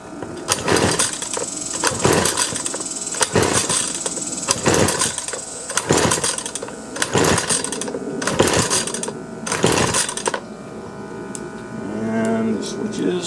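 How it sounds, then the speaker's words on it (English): Repeated pull-starting of a Husqvarna two-stroke string trimmer with the choke on, about eight sharp rhythmic recoil pulls, each a loud rasping whir, with no engine catching and a faint voice near the end. "I'm going to put the choke on, give it a few pulls, and see if it tries at all"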